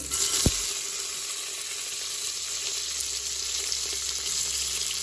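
Steady, even sizzling of onions frying in hot oil for mutton leg soup, continuous and close, with a single sharp knock near the start.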